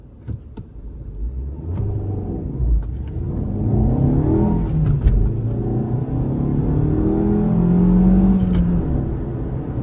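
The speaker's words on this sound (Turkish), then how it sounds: "Bir sıfırdan kalkış yapalım. Sıfır yüz hem de siz de hızlanmasını bir görmüş olun." A Fiat Egea 1.4 Urban Plus car pulls away from a standstill and accelerates hard, its engine rumbling and climbing steadily in pitch, heard from inside the cabin over about ten seconds with no talk.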